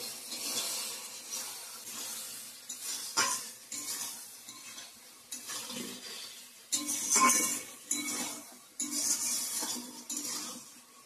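Chicken masala with tomato paste and ground spices is sautéed and stirred, giving repeated scraping strokes and bursts of sizzle, a few metallic clinks, and no speech.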